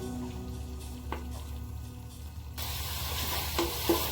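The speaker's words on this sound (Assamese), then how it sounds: "মছলাখিনি ভালদৰে ভাজি ল'ম।" Spice paste with onion frying in oil for a pumpkin and fish curry, a steady close sizzle and hiss that grows louder and brighter partway through, with a few faint utensil clicks.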